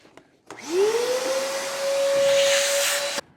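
A vacuum cleaner switches on and rises to a steady, loud whining roar while sucking metal shavings off a scrap piece of material during crawlspace encapsulation work, running alone for several seconds before cutting off.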